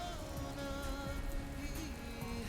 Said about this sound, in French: Je vois que tu apprécies bien la pluie.